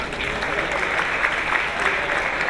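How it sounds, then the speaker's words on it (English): Steady applause from a crowd at a gala event, many hands clapping continuously and fairly close, with a murmur of voices underneath. "How about another round of applause?"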